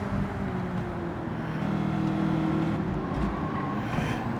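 Race car engine in a Gran Turismo–style VGT Trophy racing game, droning steadily with rising and falling revs, loud and close throughout with no talking.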